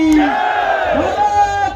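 A large crowd at a Datta Jayanti rally in Chikkamagaluru roars a loud, sustained unison "Jai" in reply to the "Bharat Mata ki" call, a single drawn-out massed shout filling the space.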